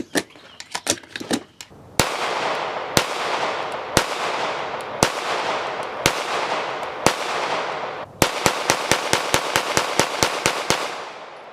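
Canik SFX Rival-S steel-frame pistol firing Fiocchi ammunition: a rapid cluster of sharp shots, then single loud reports about a second apart, ending in a fast string of close, crisp shots.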